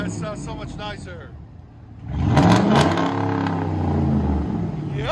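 A V8 with true dual exhaust idles briefly, then revs sharply and loudly up close before holding a throaty, sustained rumble.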